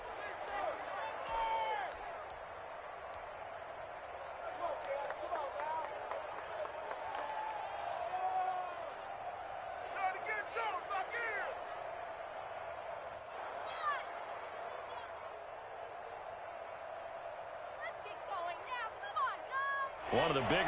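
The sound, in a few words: football stadium crowd cheering during Steelers game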